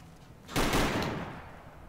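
A sudden burst of gunfire erupts in the Mojave wasteland of Fallout: New Vegas, a dense volley of shots that flares up after a quiet moment and trails off into a fading rumble, with no talking.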